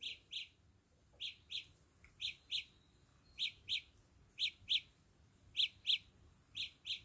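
Samsung Galaxy Buds emitting the Find My Earbuds tweeting alert from a tiny speaker: steady pairs of high, thin chirps repeating at a regular rhythm, quiet and clear with no talk over them.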